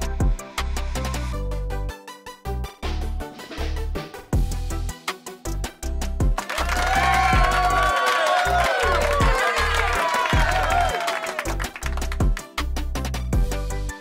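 Sustained applause and cheering from a crowd swells in the middle, surrounded by choppy bursts of rhythmic clapping and noise.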